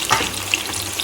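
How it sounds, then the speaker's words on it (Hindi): Chopped tomatoes hit hot oil in a pan during biryani cooking, giving a brief continuous sizzle and crackle with a few small pops, close and moderately loud, with no talking. "अब उसी ऑयल में हमने जो 2-3 टमाटर काटे थे वो डालेंगे इसमें"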